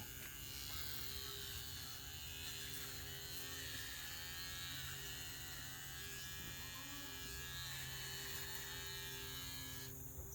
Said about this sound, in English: Now, I'm gonna go ahead and shave her so that you guys can see that.